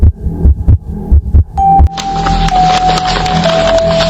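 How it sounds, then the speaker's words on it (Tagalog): A heartbeat sound effect for a horror story throbs as a run of heavy, close, low thumps in paired beats. A sustained eerie hum and tone then swell up and take over. "Sobrang tahimik na halos marinig ko ang tibok ng puso ko"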